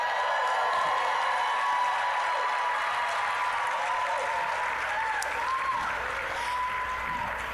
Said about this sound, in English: You can't applaud like that